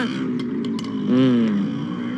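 A motorcycle engine idles steadily, then revs up briefly in a rising and falling swell before settling back, heard up close at moderate loudness with no talking.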